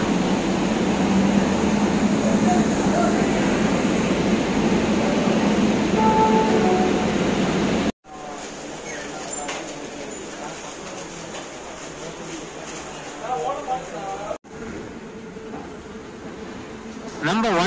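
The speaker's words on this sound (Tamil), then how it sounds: "நம்ம 16115 டாட் ஆன் டைம் 6:10க்கு எக்மோர்லேருந்து டிபார்ட் ஆயிடுச்சுங்க" Express train 16115 departs Egmore station in Chennai with a steady rolling rumble of rail cars and carriage noise. The sound is heard from on board, with abrupt cuts and faint voices in the background.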